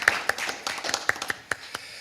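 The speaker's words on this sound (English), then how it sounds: "So give them a round of applause." A handful of scattered claps from a church audience, about ten sharp separate hand claps spread over two seconds, fairly quiet and sparse rather than a full ovation, with no talking.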